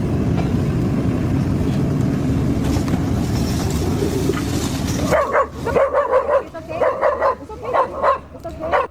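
A dog barks repeatedly out on a city street in a homeless encampment, several loud, close barks in an uneven run after a stretch of steady rumbling background noise.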